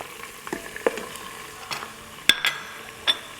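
Ground cumin, coriander, chaat masala, turmeric and salt fry in a pan for potato-eggplant curry. There is a soft sizzle with scattered scraping strokes of a spoon and a few sharp clinks against the pan.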